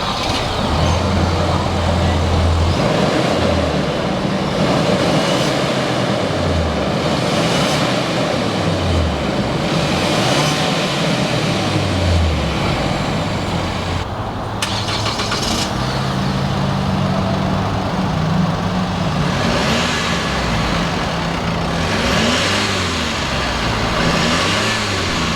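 Two 2019 mid-size pickups, a Ford Ranger XLT Sport Edition and a Chevy Colorado, driving with a steady loud engine drone and road rumble, rising and falling rev tones repeating throughout, and no talking.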